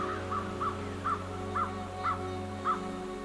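A gull calls six times in a steady, evenly spaced series, moderately loud over a low, constant background hum.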